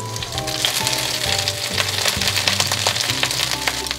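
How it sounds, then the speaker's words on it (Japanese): Cabbage and sliced garlic stir-fry over medium heat in a pan, giving a steady close sizzle with scattered crackles, while light rhythmic tones play softly underneath. "キャベツが甘いのでちょっと焦げてくる部分もありますが、そのまま火は弱めずに炒めます。"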